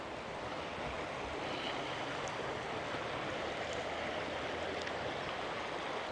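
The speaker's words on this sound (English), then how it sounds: "There we go, that's the river." A river in a Welsh valley runs steadily throughout, a broad continuous rushing wash of water that stays even and close, with no voices over it.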